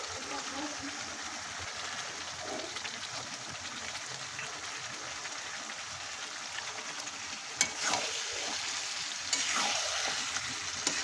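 Goat meat goes into a pan of fried spice paste, a quiet, steady sizzling hiss with a few stirring knocks near the end, while someone talks softly.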